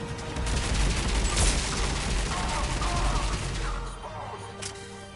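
Gunfire from a Mass Effect 3 firefight: loud, dense, continuous bursts of shots and impacts with crashing debris, easing slightly toward the end.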